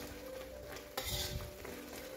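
Beef rendang being stirred in a pan as it cooks down drier, a faint steady sizzle with a spoon scraping through, one firmer clatter near the middle, quiet and close.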